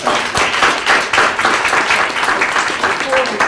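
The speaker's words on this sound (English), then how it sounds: "So a small round of applause for Stephen." Applause from the audience at a panel discussion on philanthropy, brisk, close clapping in a dense burst that keeps an even level for several seconds.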